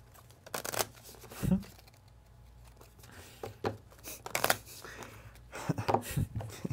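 Deck of KeyForge cards being shuffled at a tabletop game, giving quiet riffling and flicking bursts in short runs, with a few sharper snaps, close to the microphone, along with soft background room noise and brief vocal sounds.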